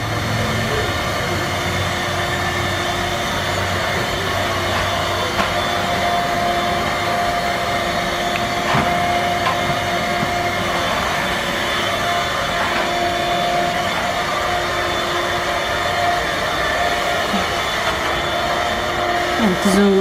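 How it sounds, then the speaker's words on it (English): A vacuum cleaner runs steadily for the whole stretch during household vacuuming, a loud continuous drone with a fixed hum, while people talk faintly over it. "she's been vacuuming"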